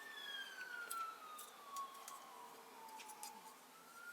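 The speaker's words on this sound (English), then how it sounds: "fire engine going past" A fire engine siren wails past from a distance, its sweeping tone sliding steadily downward as the vehicle moves away, faint under quiet room background.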